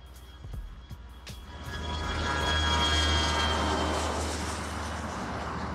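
Military surveillance drones fly overhead, their engine hum swelling into a steady, loud drone that holds to the end, with a few faint clicks at the start.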